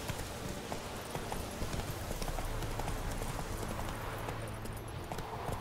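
Roach the horse gallops in The Witcher 3, rapid rhythmic hoofbeats drumming steadily and fairly close over a dense, busy background, with no clear voices.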